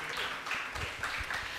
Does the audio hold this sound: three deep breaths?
no